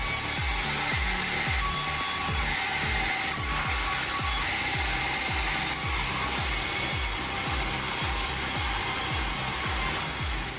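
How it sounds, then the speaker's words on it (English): A fast bandsaw rips through jackfruit logs, its motor whining steadily while the blade drives through the wood in rapid repeating rasping strokes, loud and close, with no voices. "The sound of that bandsaw is almost mesmerizing"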